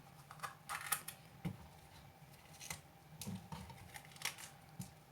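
Bell pepper being cut in half on a board, a series of quiet crisp cuts and taps at an uneven pace, faint and close over a soft kitchen hum.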